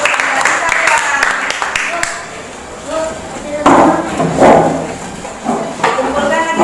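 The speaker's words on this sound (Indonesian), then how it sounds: "Tepuk tangan, beri aplaus buat teman-teman" Schoolchildren clap for their classmates in a classroom, with a burst of quick, crisp claps at the start that thins out under children's voices and talk.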